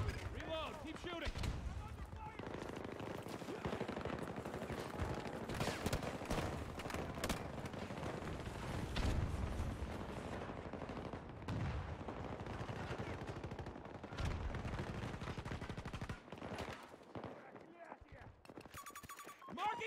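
Dense, rapid gunfire from automatic weapons rattles almost nonstop through a 64-player Battlefield 2042 Breakthrough battle, loud and close with scattered heavier blasts, while voices talk over the fighting.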